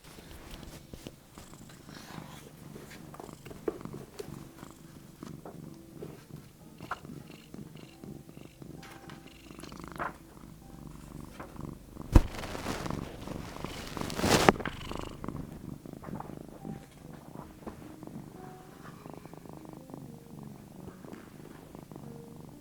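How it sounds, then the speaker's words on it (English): A cat purrs steadily and low throughout, a soft continuous rumble close by with a few brief rustles and bumps partway through. "My cat Toulouse is keeping me company, and he's very happy at the moment"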